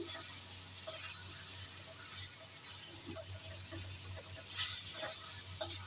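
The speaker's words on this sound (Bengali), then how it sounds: "এবার ভালো করে এই মশলাটাকে কষিয়ে নেব।" Masala for a chicken and egg curry sizzles and is stirred in a pan, a steady soft frying hiss with scattered scraping stir sounds and a low hum underneath, no talk.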